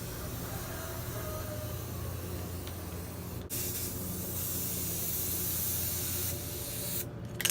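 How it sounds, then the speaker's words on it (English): A spray paint can laying down a light first coat of gloss black on a grill, a loud steady close hiss that runs almost continuously with one brief break. "You want to make sure to spray very lightly on the first coat,"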